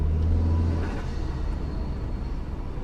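Tuned Saab 9-5 with a 2.3 liter engine and a 260 bhp tune, accelerating on boost with a steady, loud, deep rumbling drone from inside the car, continuous throughout.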